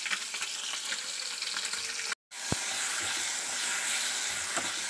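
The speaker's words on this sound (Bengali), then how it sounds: "চলো মাছগুলো ভেজে নিই।" Fish fry in a pan with a constant, close sizzling hiss, cut by a brief moment of silence partway through before the crackle resumes and carries on steadily.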